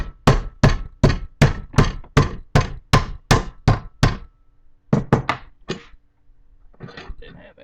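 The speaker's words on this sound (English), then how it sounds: "I'm just going to take my cross peen and I'm just going to cold bend" A cross peen hammer cold bends a metal strip to 90 degrees with about a dozen sharp, evenly spaced ringing blows, a short pause, then a few more strikes and some quieter handling noise.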